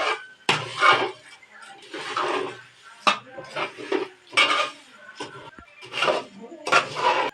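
Flattened rice is stirred and mixed in a pan, a spoon or spatula clattering and scraping against the metal in repeated bursts of clanks with short pauses between strokes.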